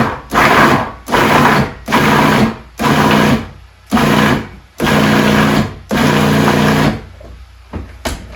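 A food processor fitted with an S blade chops fruit for Christmas jam in loud, repeated bursts, seven pulses of whirring about a second each separated by short gaps, close up with no talking.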